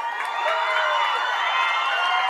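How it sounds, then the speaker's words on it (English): Crowd cheering and celebrating at a girls high school soccer state championship trophy presentation, a steady, dense roar of many voices holding at one level throughout. "Celebrations from the crowd."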